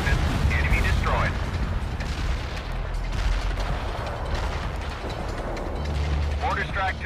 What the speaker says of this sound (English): Mortar strike took care of enemy units in target area.